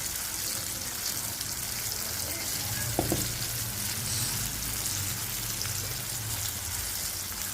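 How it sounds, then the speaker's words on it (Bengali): Onion frying half-raw in a pan for a fish curry, a loud, continuous close sizzle with a brief utensil knock partway through and no talking. "আধা কাঁচা করে পেঁয়াজটা ভাজছি"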